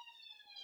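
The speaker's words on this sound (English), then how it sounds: "apologies for the siren" A siren passing outside, heard faint and distant as a thin steady wailing tone for a fraction of a second, with no voices.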